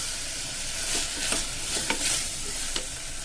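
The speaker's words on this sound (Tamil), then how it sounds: "மஞ்சப்பொடி போட்டு இதை நல்லா கலந்து விடணும்." Turmeric and asafoetida being stirred into a tomato sambar, with a spoon scraping and clinking against the pot several times over a soft sizzle.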